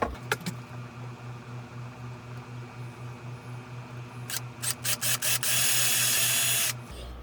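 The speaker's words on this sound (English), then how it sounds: "we're going to drill a hole in the cap for the airline tubing" A power drill whirs in short bursts, then runs steadily at high pitch for a couple of seconds as it bores a small hole through a plastic bottle cap, over a low motor hum.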